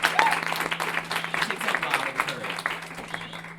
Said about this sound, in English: So I actually want to start with a round of applause